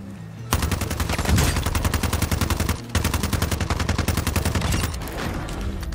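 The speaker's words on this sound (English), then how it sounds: "I hear gunshots in front of me" Rapid automatic gunfire in Warzone, loud and close, rattles in a dense continuous burst, breaks off briefly, then resumes and fades slightly toward the end, with no talk.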